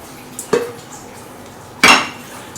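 A mixing bowl for pizza dough is handled on a kitchen counter, giving two sharp ceramic knocks and clinks about a second apart, with quiet room tone between them.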